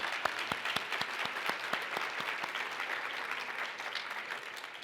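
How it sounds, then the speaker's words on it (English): A modest audience at an awards ceremony claps together, with crisp individual hand claps standing out near the start before the applause thins to a softer, fading patter. "One more round of applause for Ishan."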